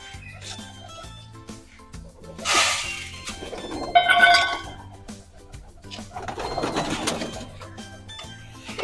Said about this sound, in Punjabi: ਆ ਗਏ ਕਬੂਤਰ ਆਪਣੇ ਦਾਣੇ